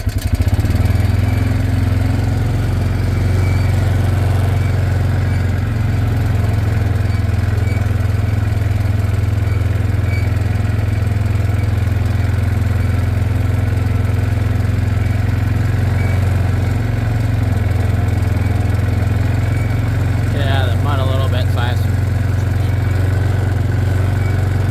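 A Dodge Caravan engine drones steadily while the van drives, a loud, close, continuous hum with a deep low rumble that holds for the whole stretch, with no talk.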